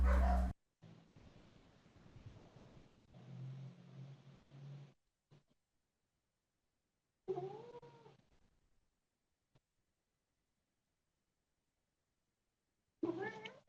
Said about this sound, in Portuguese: desde tarde o gato tá aqui